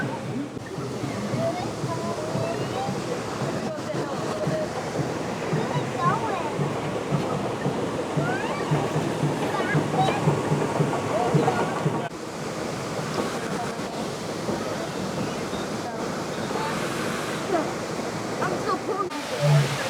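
Rushing, churning water splashes steadily around a river rafting ride at Animal Kingdom, a broad continuous wash close by with wind buffeting the microphone and riders' voices mixed in.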